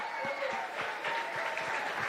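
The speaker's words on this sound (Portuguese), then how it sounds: "Vamos dar uma salva de palmas para essa ninhada." Short burst of clapping from a church congregation during a worship service, with steady applause under a faint backdrop of voices.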